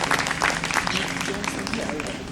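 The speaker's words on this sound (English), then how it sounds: "And I wanted to give kind of a applause to Gavin because he did an awesome job with" An audience applauds at a community gathering of mural-festival organizers, a scattered, moderately loud patter of hands with voices mixed in.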